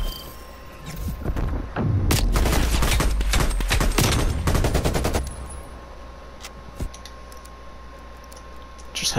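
Rapid bursts of video game gunfire rattle out in dense volleys, mixed with keyboard and mouse clicking, then thin into scattered single shots.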